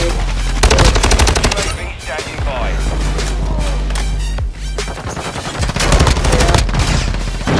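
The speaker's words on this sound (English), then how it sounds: "This is just all grenade kills from here on out" Rapid machine-gun bursts and gunshots fill a Call of Duty match, loud and close, with grenade explosions and crashes between the volleys and a voice talking over the action.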